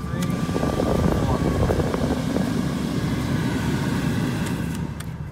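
Steady, loud whooshing airflow from a Ford car's blower motor fan running at a higher speed after a blower motor resistor repair, a constant broadband rush that barely varies and fades slightly at the end.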